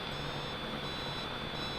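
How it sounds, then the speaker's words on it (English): An HT F801 quadcopter drone's camera emits a steady high-pitched recording beep, a continuous thin tone held over the constant whir of the hovering drone, with no voices. "Now when the camera is on, you'll hear this beeping"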